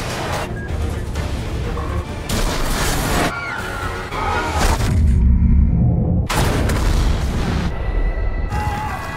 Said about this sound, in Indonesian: karena ledakan tersebut, suasana persidangan pun semakin tak terkendali dan Duhovic memanfaatkan situasi tersebut